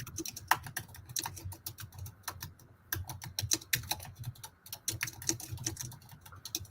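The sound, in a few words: typing on a computer keyboard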